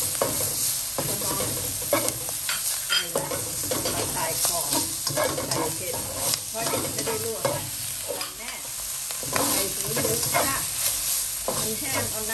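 Pork ears stir-fried with pounded garlic and chili in a hot pan, giving a steady close sizzle and frying crackle with repeated scraping strokes of the stirring utensil throughout.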